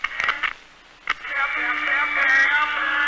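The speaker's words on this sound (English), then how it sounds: "current causes this radio to produce sound" A small radio driven by an applied electric current emits a tinny tone that cuts out briefly, then returns as a sustained, steady buzzing signal.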